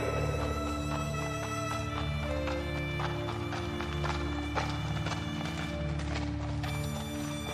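Hooves of a prince's horse clip-clop at a steady walking rhythm over a background music bed, with an occasional whinny, in a cartoon setting.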